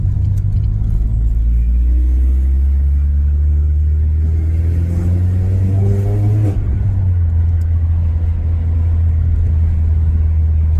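A naturally aspirated Renault Clio RS engine pulls hard through the gears, its loud rising note climbing, then dropping sharply at a shift before settling into a steady drone, close and without talk.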